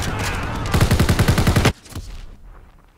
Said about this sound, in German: Oh, da hat jemand auf den Panzer geschossen